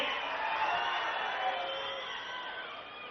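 A large political rally crowd claps together in a dense, steady wash of applause that eases slightly toward the end, with no voice speaking over it.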